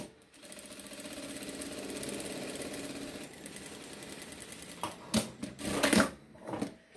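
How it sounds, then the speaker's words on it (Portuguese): Sewing machine stitching two fabric pieces together lengthwise for a phone charger and earphone holder, a steady fast mechanical whir for about three seconds, then short stop-start bursts and handling clatter. "vou costurar aqui, ó, juntar as duas partes aqui, ó"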